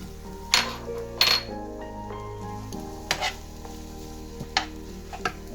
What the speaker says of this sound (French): on va laisser revenir un peu colorer les oignons pendant 5 bonnes petites minutes